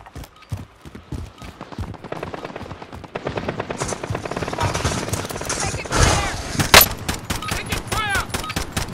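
Gunfire in Call of Duty: Modern Warfare, a dense run of rapid shots and bursts swelling in intensity over a busy battlefield mix, with a sharp loud blast near the end and talk mixed in.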